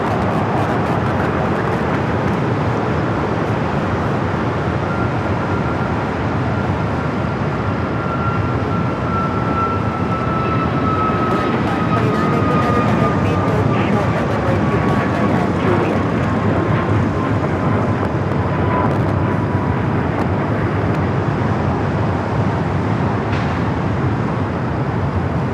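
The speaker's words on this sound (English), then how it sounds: "Next departure here on the south side, Alaska Airlines Flight 1383 heading to Spokane, Washington. 737 MAX 9" An Alaska Airlines Boeing 737 MAX 9 departs LAX for Spokane, a steady loud jet roar sustained throughout, with a faint rising-and-falling engine whine drifting across the middle.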